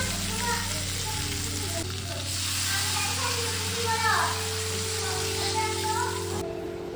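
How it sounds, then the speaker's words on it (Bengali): Hilsa fish and spices frying in curry gravy give off a steady, close sizzle and crackle throughout, with faint voices in the background. "ঝোলের সাথে সাথে কিন্তু মাছটাও ভাজি হয়ে গেছে। মশলাটা ফ্রাই হয়ে গেছে।"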